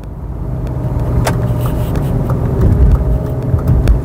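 A BMW E39 with the M54 3-liter engine drives along, its engine a steady, close low rumble with road noise that swells slightly toward the end.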